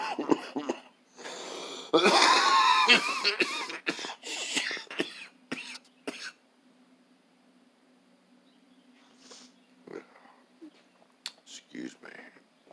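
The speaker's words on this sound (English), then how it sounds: "A little chronic cough there." A man's chronic cough comes close and loud in a garage-type room as a cluster of harsh coughs and throat clearing, followed by quieter breathy sounds and scattered faint bumps.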